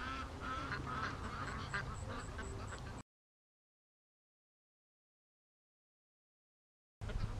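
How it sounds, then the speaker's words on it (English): Free-range ducks on a lake squawk and quack in alarm as a seagull swoops overhead, a busy chorus of honking calls at moderate distance that cuts out abruptly after three seconds and returns briefly at the end. "That seagull's freaking the ducks right out."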